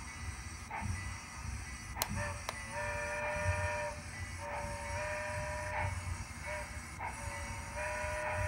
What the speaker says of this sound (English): Better blow the whistle.